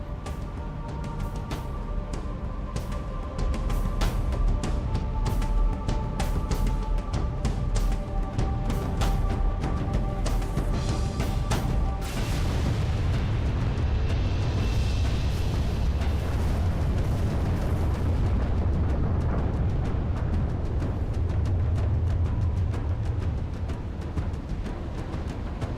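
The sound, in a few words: spire destruction explosion in video game Halo 3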